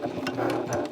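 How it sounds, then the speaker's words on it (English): A sewing machine stitching across the bottom of a tote bag, a quick even run of close mechanical needle strokes over about a second. "And then I'm going to sew across the bottom here, just beneath the rectangle ring,"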